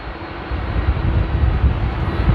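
Aircraft engines roar at Amsterdam Airport during a windy storm, a loud, steady, close rumble with gusty wind buffeting the microphone throughout.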